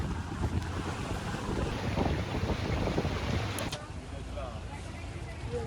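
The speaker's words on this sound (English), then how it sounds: "As the boat glides across the water" A boat glides across ocean water along a coastline, its washing water blending with strong wind buffeting the microphone in a continuous rush.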